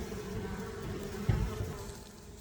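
Bees buzz around an insulated horizontal beehive in a continuous, close droning hum, with one louder pass near the middle as a bee flies close by, and no talking.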